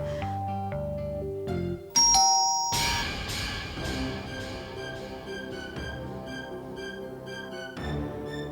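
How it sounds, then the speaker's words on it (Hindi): A household doorbell rings out in a ding-dong chime at an apartment door, loud and close, its tone ringing on and decaying over sustained background music. "अगर घंटी बजी तो इग्नोर इट।"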